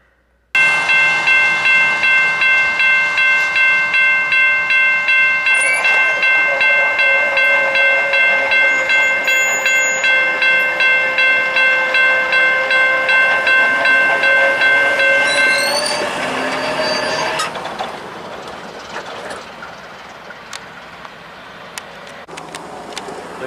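Freight train with a distributed power locomotive passing close by, loud steady rumble and rhythmic clacking of wagons over rail joints, with whistle-like tones for the first 17 seconds before the sound eases to a quieter rolling tail.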